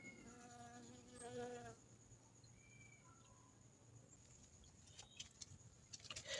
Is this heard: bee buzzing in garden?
yes